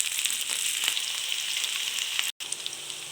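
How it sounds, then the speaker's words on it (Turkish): Meatball patties frying in hot oil in a pan, giving a loud, steady sizzle and crackle close by, with one brief dropout near the end. "yağımız kızardığına göre yavaşça şeklimizi koyuyoruz"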